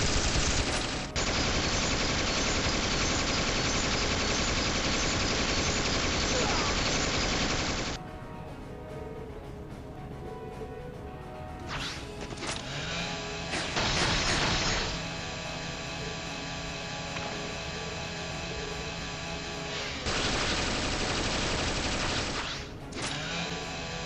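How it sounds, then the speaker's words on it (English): A chain gun firing in the game Trails to Azure, a long loud continuous rattle of rapid shots that cuts off sharply, then gives way to quieter mechanical sounds and fresh bursts of fire. "When did they have time to set up the chain gun?"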